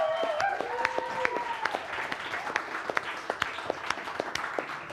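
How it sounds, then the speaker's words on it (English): An audience at a live fantasy role-play show applauds the Hexmaster with scattered, steady clapping at moderate distance; a voice briefly overlaps the start before the clapping continues alone. "citizens of Throcia, a round of applause for our Hexmaster, Galivor."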